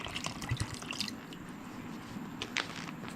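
Leftover drinking water drips in a knifemaker's workshop: a few faint, close, irregular drops and soft wet squishes over a quiet background, with no talking.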